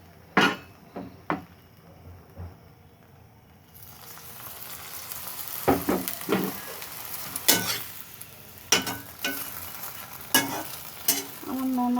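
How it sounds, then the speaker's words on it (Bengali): Parathas frying in a pan with a steady sizzle throughout, broken by repeated scraping and tapping of a spatula or utensil against the pan, close and loud, no talking. "এক এক করে সব পরোটা ভাজা নিচ্ছি"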